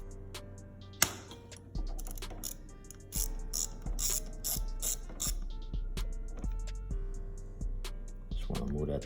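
A ratchet clicks in quick repeated bursts while loosening bolts on a Honda CBR250R motorcycle, close and clear over low mechanical background, with a sharp knock near the start.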